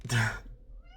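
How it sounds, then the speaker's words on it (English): A cat meows once, loud and close, in the Fausts Alptraum video game, with a low hum continuing underneath afterward. "Ah, just a cat."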